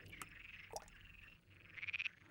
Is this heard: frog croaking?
yes